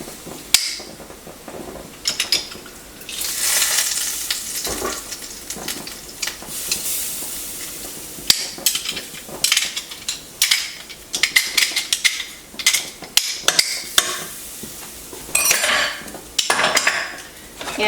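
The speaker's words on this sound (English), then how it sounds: "we're just going to stir it around for just 20 or 30 seconds until we can smell the garlic" Minced garlic, two cloves, stirred around a pan with a utensil, giving continuous scraping and clinking against the pan over a soft sizzle, close and busy for the whole stretch with no talking.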